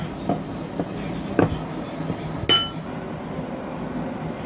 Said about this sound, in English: Stir to combine.